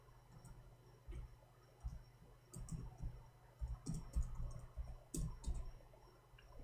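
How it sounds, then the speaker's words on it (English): Quiet, irregular clicks of keys being typed on a computer keyboard, soft taps in short bursts close to the microphone against a faint background hum. "let us type this."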